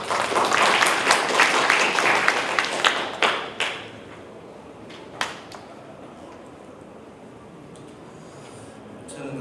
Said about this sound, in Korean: 박수로 맞이해 주시면 좋겠습니다.